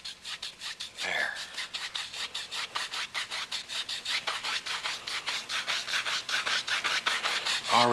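A paintbrush loaded with Prussian blue paint makes quick crisscross X strokes, a close, rhythmic scrubbing of bristles that repeats several times a second and grows steadily louder.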